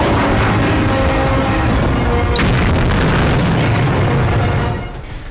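Explosions during an Indonesian military (TNI) joint beach assault exercise at Banongan Beach, Situbondo, a loud, dense, continuous rumble of booms with a sharp burst midway, fading slightly at the end.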